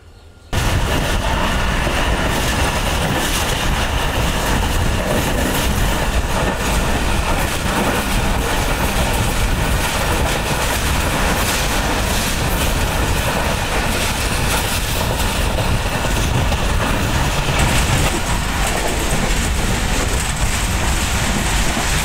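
The Shalimar Express rolling on rails after leaving Khanewal station, heard from inside as a loud, continuous rumble and rattle of wheels and carriages throughout, without speech.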